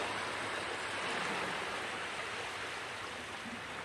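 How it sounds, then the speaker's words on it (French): Water washes steadily in a dense, continuous rush like waves or a stream, with no distinct breaks or voices, at a moderate level. "Tu as des vagues qui clapotent et qui lèchent avidement tes pieds."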